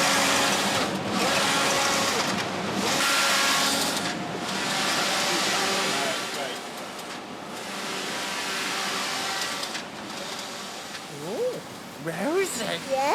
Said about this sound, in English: This is a knitting machine, Neil. It's knitting a sleeve for a jumper just like yours.